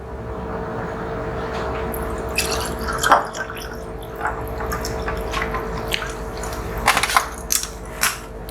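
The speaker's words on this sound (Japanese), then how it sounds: "こちらに炭酸を注ぎます。" Carbonated soda is poured into a highball glass of ice and whisky, aimed at the gap between the glass and the ice, with a steady fizzing hiss. Small crackles and clinks rise louder toward the end.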